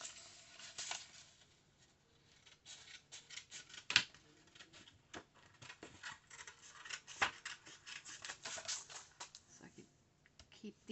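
Scissors snip through die-cut paper in short, quiet crisp cuts scattered irregularly, close by and faint, with a couple of sharper clicks.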